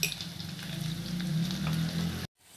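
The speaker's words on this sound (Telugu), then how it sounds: "సన్నగా తరిగిన ఉల్లిపాయలు కరివేపాకు పచ్చిమిర్చి తీసుకోవాలి కట్ చేసుకుని ఆయిల్లో ఫ్రై చేసుకోవాలి" Thinly sliced onions, curry leaves and green chilies fry in oil with a steady sizzle and light stirring, heard close for about two seconds before cutting off abruptly to near silence.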